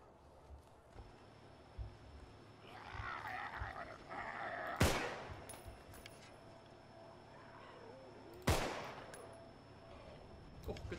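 Two sharp, loud gunshots ring out several seconds apart in the Contagion video game, each with a short decaying tail, set against quiet background noise and brief murmuring.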